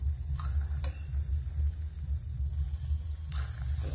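Egg batter for mini sausage-and-egg Indonesian street snacks sizzles in a frying pan, a close and steady hiss broken by a few light clinks and scrapes of utensils, with no talking.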